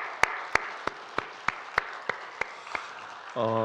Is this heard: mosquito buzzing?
no